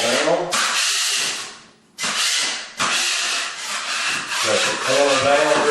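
A drywall knife scrapes joint compound across a wall being covered over wallpaper, giving loud, broad rasping strokes in long sweeps broken by short pauses, close up and mostly alone.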